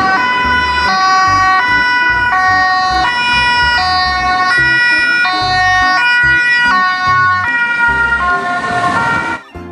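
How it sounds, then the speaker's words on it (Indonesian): A toy ambulance siren plays a loud two-tone electronic wail, alternating pitches in a steady repeating cycle, close and alone. "Yang ini ada mobil ambulans."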